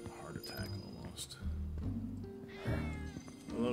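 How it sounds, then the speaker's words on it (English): A cat meows in the Final Fantasy VII Remake video game, several drawn-out calls over game music and ambience, moderately loud and close. "Hello, kitty cat."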